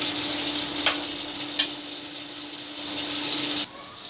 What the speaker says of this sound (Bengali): এই যে বাদামি কালার করে ভেজে নিচ্ছি